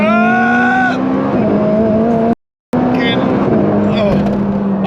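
A McLaren 675LT with a previously blown engine revs hard on a road test, the engine note climbing through gears with a brief cutout midway, loud and close from inside the car.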